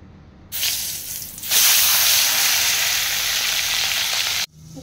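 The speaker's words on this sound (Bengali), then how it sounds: "এবার আমার তেলও গরম হয়ে গেছে, এবার মাছগুলোকে ছেড়ে দিব।" Pabda fish rubbed with turmeric and salt drop into hot oil, setting off a sudden loud sizzle that swells into a strong, steady hiss and then cuts off abruptly.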